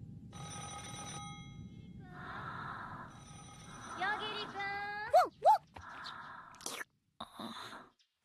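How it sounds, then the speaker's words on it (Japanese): A telephone rings to wake someone, a repeated electronic bell tone in bursts, with people talking and other sounds following. "よし、高藤君を電話で起こそう。"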